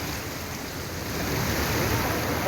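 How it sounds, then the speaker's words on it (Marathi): Floodwater pours over a bridge during heavy rain near Renapur in Latur, a steady loud rushing roar with wind buffeting the microphone and no break. "लातूरच्या रेणापूर तालुक्यातील शिंदगाव, आंदलगाव आणि पोहरेगाव या दोन गावांना जोडणाऱ्या पुलावरून पाणी आलेलं आहे"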